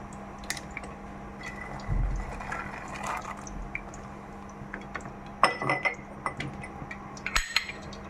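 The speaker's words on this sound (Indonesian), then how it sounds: "setelah mendidih, kita masukkan ya kacang ketolonya" Ketola beans going into a boiling pot of vegetable soup with galangal and bay leaves, heard as light splashes, clinks of the utensil against the pot and bubbling liquid, close up.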